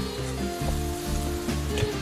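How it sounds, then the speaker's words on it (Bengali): Katla fish cooks in a mustard and poppy seed paste, giving a steady close sizzle and crackle with occasional stirring bumps and a faint hum underneath. "এটাকে ভেজে দেব।"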